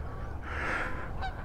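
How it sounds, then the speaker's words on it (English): Geese honking as they fly overhead at a duck park, a single faint, brief honk against outdoor background noise. "Not birds, but geese."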